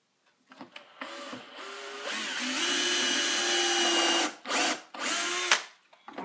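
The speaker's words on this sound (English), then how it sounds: "Use my impact driver." A cordless impact driver sends wood screws into a homemade wooden candle holder, whirring in several close bursts with a rising rattling hum, then brief stops and restarts.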